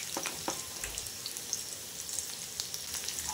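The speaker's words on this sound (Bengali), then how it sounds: "এক পিঠ ভাজা হয়ে এসেছে, এবার উল্টে অন্য পিঠটাও ভেজে নিচ্ছি" Sago fritters (sabu bora) frying in hot oil, the second side cooking after being flipped, give a steady soft sizzle with scattered crackles and pops throughout, alone without voices.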